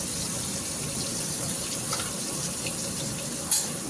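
Water streams from a tap into a drinking glass in a home kitchen, a steady close splashing flow with a slight rise near the end.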